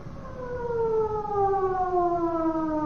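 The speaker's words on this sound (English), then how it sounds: "With the sounding of the siren, a tense atmosphere descends over the whole station." A wailing siren at a rocket station sounds before a firing, its pitch sliding slowly downward in a sustained, moderately loud tone with a low background rumble.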